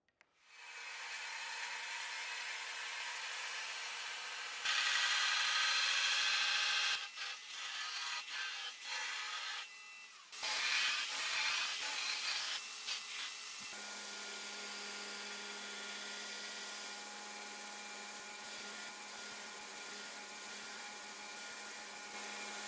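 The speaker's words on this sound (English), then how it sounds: "I'm actually using an end mill instead of a drill to get a flat bottomed hole" End mill cutting flat-bottomed holes into knife handle scales, a steady high machine whine with louder bursts of cutting between pauses, close and without talk.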